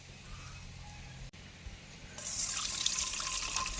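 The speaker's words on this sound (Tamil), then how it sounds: "இது கடையில் வாங்கின எள்ளு தானே, மண்ணுகள் இருக்குது. நாங்கள் நல்லபடியாக துப்புரா கழுவி எடுக்கணும்." Store-bought sesame seeds are washed in water to clear out grit. Water trickles and swishes steadily at first, then turns into a louder, fuller splashing pour about halfway through. The sound is close, with no voices.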